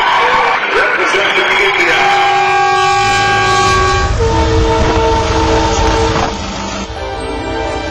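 A train rumbles past in a TV advertisement, its horn sounding loud and sustained over heavy rolling noise, close and dominant throughout.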